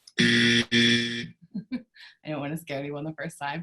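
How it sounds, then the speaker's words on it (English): A loud game-show style timer buzzer sounds twice in long harsh blasts, each about half a second, then a person speaks. "you're gonna hear a buzzer. It's gonna sound like this."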